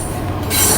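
Union Pacific eastbound intermodal stack train passing a station, with loud rumbling wheels and a high, sustained metallic squeal that swells over the brief moment.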